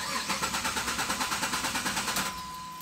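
A diesel engine cranking after its fuel pump and empty injectors are primed, with rapid rhythmic starter pulses for about two seconds before it catches and settles into a steady running hum.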